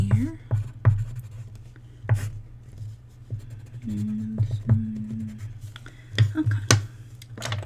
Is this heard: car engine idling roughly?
no